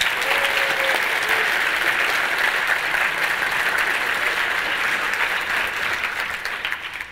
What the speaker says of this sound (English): can you give me the applause again, please?